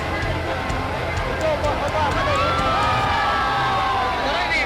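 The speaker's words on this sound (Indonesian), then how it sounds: "mereka disambut gemuruh tepuk tangan dan pekik merdeka dari ribuan rakyat" A large crowd of thousands lining a street cheers and shouts "merdeka" amid applause, a loud, steady wash of voices and whistling cries with babble throughout.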